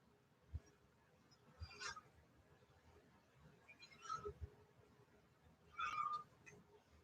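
A cat meows softly a few times in a quiet room during a home workout session. The short calls are faint and spaced out against low background hiss.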